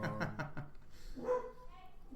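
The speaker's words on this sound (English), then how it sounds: "You probably hear my dogs barking in the background." Several dogs bark in the distance behind a conversation, a run of repeated barks early on and a fainter bark or yip later, all partly masked by talking.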